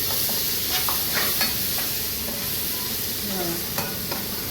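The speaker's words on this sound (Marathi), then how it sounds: "आता ही कोलंबी आहे ना थोडीशी टाकली बघा." Prawns stirred through a hot pan for prawn rice made from leftover rice, a steady sizzle and frying hiss with light scraping stirs on top.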